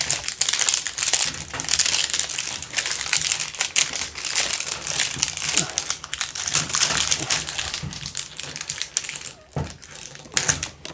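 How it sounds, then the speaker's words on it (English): Plastic protective film crinkles and crackles continuously as it is peeled back from an LED light fixture being installed in a garage storage room, close and busy, with no speech. "peel the plastic back"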